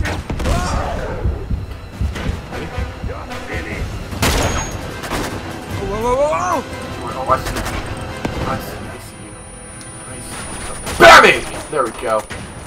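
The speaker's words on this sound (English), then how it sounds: "Stop shooting at me!" Gunfire in Uncharted 2 at a train yard, sharp shots and heavy thuds scattered irregularly across the scene with loud impacts, while a voice talks and exclaims over the shooting.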